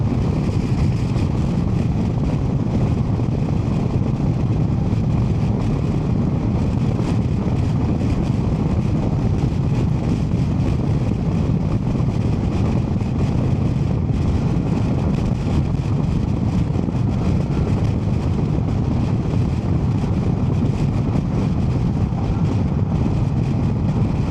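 An Indian Sport Chief RT motorcycle with six gears being ridden, giving a steady, loud engine drone mixed with heavy wind rush that stays constant throughout, with no talking.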